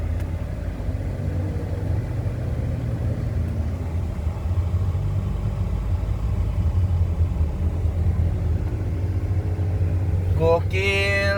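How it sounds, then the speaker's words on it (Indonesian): A Toyota Innova Zenix G petrol car pulls away as the accelerator is pressed, giving a steady low engine and road rumble from inside the cabin, with a short rising tone at the very end. "Dia otomatis langsung ya, diinjak gas langsung jalan ya."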